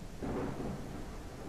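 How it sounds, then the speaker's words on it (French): A game thunderstorm gives a low, rolling rumble of thunder over a steady hiss of rain, dense and continuous for a moment, moderately loud and without talk. "Avec cet orage en plus, c'est terrifiant."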